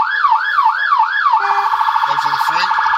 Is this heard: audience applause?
no